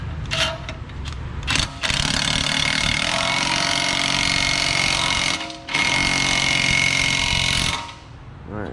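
A power tool whirs hard in bursts, short stuttering pulses and then a long sustained grinding run, while tightening a part on a turbo Mustang being built into a pro mod race car.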